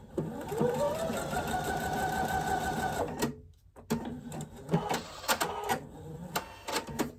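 Sewing machine stitching a diagonal seam across a small quilt block runs steadily with a whirring motor hum for about three seconds, then stops, leaving quieter handling noises.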